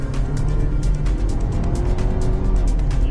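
A Ford Bronco Sport accelerates on a highway with paddle shifting, giving a loud, steady engine drone mixed with road and tire roar from inside the cabin.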